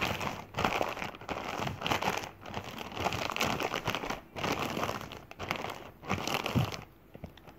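Paint squished and spread by fingers inside a plastic bag over paper, a continuous close crinkling and rustling of plastic with brief pauses, no voices.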